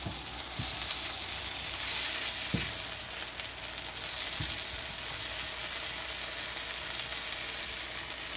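Onions and chillies fry over a high flame in a pan, giving a steady loud sizzle throughout with a few sharp scrapes of stirring scattered through the clip.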